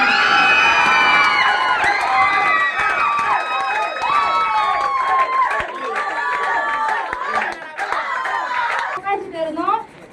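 A celebration crowd cheers and shouts loudly at a gold manager achievement event. Excited voices whoop and chatter over one another, and the cheering swells and dips across the whole stretch.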